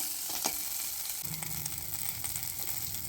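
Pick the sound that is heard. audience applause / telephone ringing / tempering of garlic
tempering of garlic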